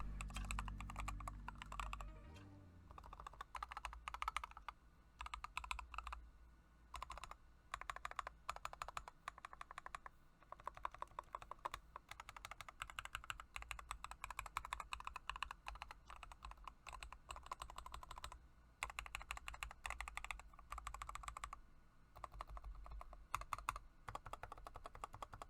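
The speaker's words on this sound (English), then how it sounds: "this keyboard produces very different sounds depending on where you type" Keystrokes clatter on a caseless nullbits Snap 75% mechanical keyboard fitted with knockoff keycaps, quiet and close, in rapid irregular bursts with short pauses between runs of typing.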